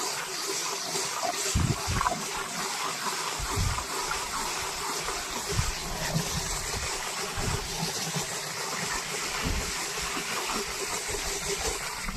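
Steady rushing and splashing water fills the clip as water is filled and mixed with cow dung, with a constant churning wash and a few low thumps, continuous throughout without voices.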